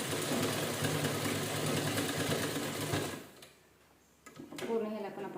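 A sewing machine stitches an old towel into a kitchen hand towel, whirring steadily and close for about three seconds before stopping, followed by faint handling noises.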